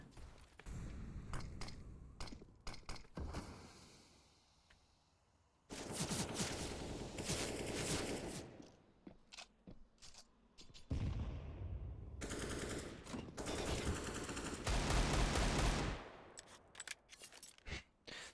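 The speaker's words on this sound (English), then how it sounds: "Just spamming the smoke with the deagle" Desert Eagle pistol fired repeatedly into smoke in a competitive tactical shooter game, heard as dense, rapid volleys of gunfire in several long bursts with short pauses, fairly quiet in the mix.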